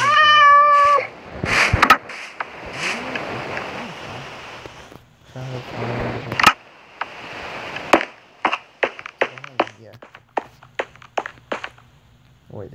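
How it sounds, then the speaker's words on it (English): Cat meows from Minecraft repeat many times, loud and clear, with a long drawn-out cry at the start and a run of short, sharp meows later, mixed with blocky game footstep and block sounds. "Why do I hear a cat?"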